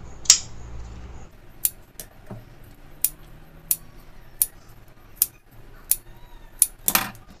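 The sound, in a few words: scissors cutting fabric of a saree border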